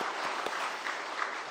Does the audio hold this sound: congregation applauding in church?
yes